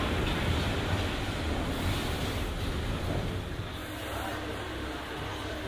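A Paris metro train rumbles along steadily, a dense, loud roar of wheels and motion that fills the whole stretch without letup.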